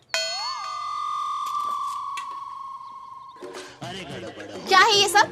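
A metal utensil or frying pan gives a single bright clang while being washed, its ring lingering and fading for a few seconds before people start talking over further kitchen clatter.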